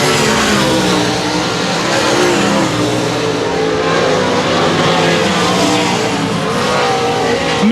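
Race cars roar around tight corners at Cotton Bowl Speedway, a loud continuous engine drone that rises and falls as the cars pass close by, with no speech.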